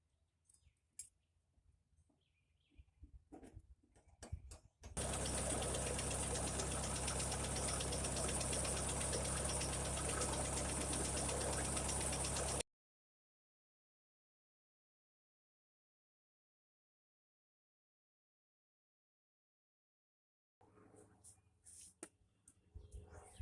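A 1956 Ferguson TO35 tractor engine with water in its fuel runs loud and rough for several seconds, then cuts out into silence before faint low rumbling returns.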